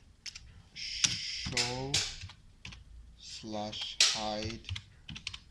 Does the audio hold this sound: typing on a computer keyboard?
yes